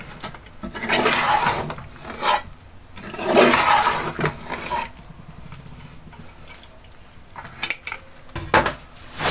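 Spiced potatoes with dried fenugreek tossed in a pan, loud rough scraping and rubbing of a spoon against metal in repeated bursts with short pauses, close up and with no talking.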